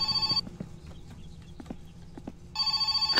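A telephone rings in the video game My Summer Car, with a loud electric bell burst at the start and another near the end, separated by a quieter stretch of soft clicks and knocks.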